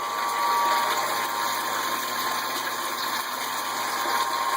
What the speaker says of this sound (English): crank on our water pump for our hot liquor tank